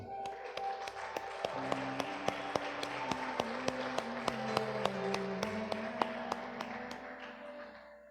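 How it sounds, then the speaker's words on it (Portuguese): A church congregation applauding during a worship service: a dense, sustained wash of clapping with sharp rhythmic claps on a steady beat, heard alongside a held musical tone and quiet background voices. "Aplauda o Senhor."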